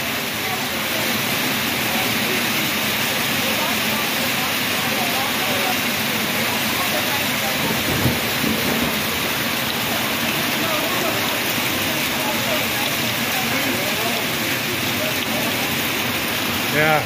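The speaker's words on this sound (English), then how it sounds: "It is raining like crazy." Heavy rain pours down in a dense, constant roar, drumming on surfaces close by with no break throughout.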